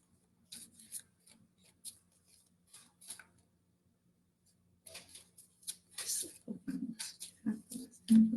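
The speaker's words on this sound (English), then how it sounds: "Let's go ahead and shuffle." Cards being shuffled, papery riffling and rubbing in short bursts, sparse at first then busier and louder toward the end.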